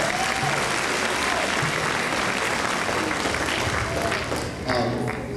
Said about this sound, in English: You gotta clap for them.